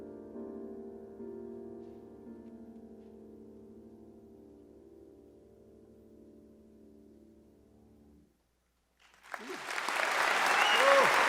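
Applause bursts out from a live audience at a songwriters' circle concert after a song ends, loud and dense clapping rising from near silence and building steadily, following a fading sustained musical note.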